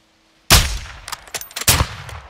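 A sharp, loud rifle shot from a sniper-style shooter game, followed by a short tail of echoing reports and smaller cracks, with no talking.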